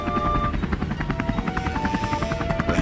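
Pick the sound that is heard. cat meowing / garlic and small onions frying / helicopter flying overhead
helicopter flying overhead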